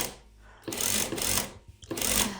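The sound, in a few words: sewing machine stitching a back tack on fabric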